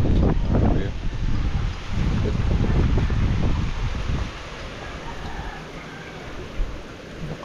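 Strong water rushes out from a storage tank after a typhoon, a loud, continuous outdoor roar with gusty wind-like noise that is heaviest at first and then settles slightly.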